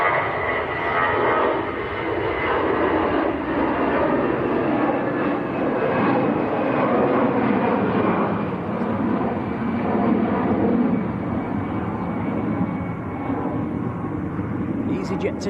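EasyJet airliner departing for Geneva, a steady broad jet roar heard from a distance at Manchester Airport, holding level for the whole stretch with talk over it.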